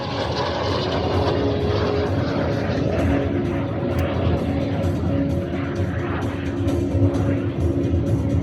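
Frecce Tricolori jet aircraft perform at the Cold Lake air show, one solo jet in inverted flight, giving a loud, continuous roar that holds steady throughout with no talk over it.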